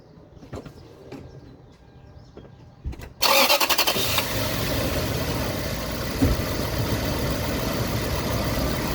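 After a few quiet clicks, a Toyota 4.7 V8 truck engine with a good ignition coil cranks briefly, catches with a loud roar and settles into a steady, rumbling idle, close by.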